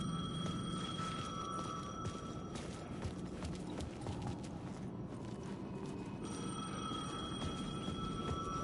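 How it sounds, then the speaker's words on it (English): A payphone in the video game Alan Wake 2 rings in repeated electronic bursts with gaps between them, moderately loud, over a busy background of footsteps and ambient game noise. "payphone was ringing"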